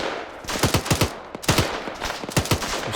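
Rapid bursts of automatic gunfire in a Second Korean War alternate-history shooter game, several close, loud volleys of quick shots separated by short pauses, with no talk over them.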